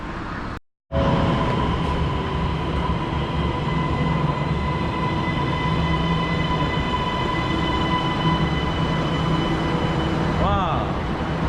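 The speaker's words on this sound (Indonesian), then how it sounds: "MRT-nya sudah sampai dan sekarang kita akan naik MRT ini" A metro train on the MRT line arrives at Kajang station, a loud steady rumble and rolling roar filling the platform for several seconds, with a brief high wheel squeal near the end and faint voices underneath.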